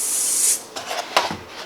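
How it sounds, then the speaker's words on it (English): Black paint hisses from a spray can onto an egg carton in one close, steady burst lasting about half a second, followed by quieter rustling and handling. "I use a spray paint because it gets it done quickly"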